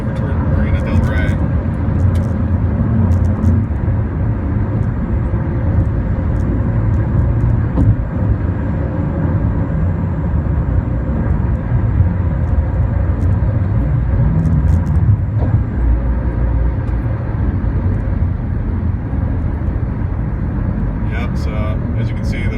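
Dense road traffic on the 105 freeway near LAX rumbles continuously and loudly, with passing vehicles and occasional higher whooshes, while a person talks over it.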